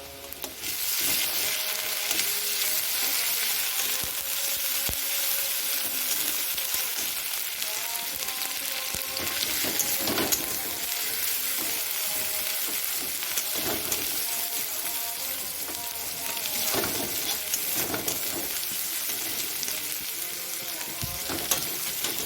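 Ginger garlic paste hitting browned onions in a hot pan, a loud continuous sizzle and crackle with stirring scrapes that keeps going steadily throughout, no voices.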